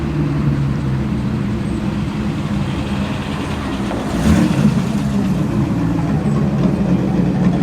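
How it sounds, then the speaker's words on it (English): A fiberglass-bodied classic Chevrolet Corvette rolls past at an evening car meet, a steady low engine rumble that swells slightly as it nears, with no talk. "coming into view, the fiberglass bodied Chevrolet Corvette"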